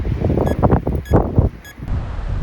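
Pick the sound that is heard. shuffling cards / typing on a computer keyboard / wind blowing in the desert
wind blowing in the desert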